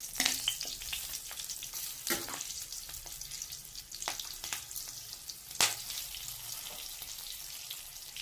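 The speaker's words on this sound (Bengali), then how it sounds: "কাঁচা লঙ্কাটাকেও জিরের সাথে হালকা করে ফ্রাই করে নেব" Slit green chillies frying with cumin seeds in oil crackle and sizzle faintly, broken by several sharp spatters and stirring scrapes spaced a second or two apart.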